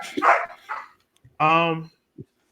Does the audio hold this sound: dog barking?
yes